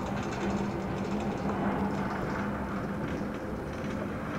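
Inside a moving Far Rockaway-bound A subway train, a constant loud rumble and hum of the car rolling along the tracks, with a low steady drone and faint rattles, unbroken throughout.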